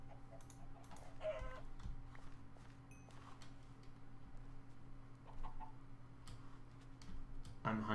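Minecraft chickens make soft clucking sounds among a flock in the game, mixed with blocky footstep ticks and other in-game effects, with a short sharp burst of sound near the end.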